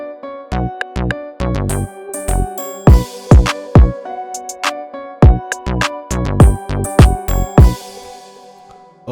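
A hip-hop beat plays alone, with punchy, evenly spaced drum hits and 808 thumps under a sustained melodic hook and bright hi-hat accents, loud and steady throughout.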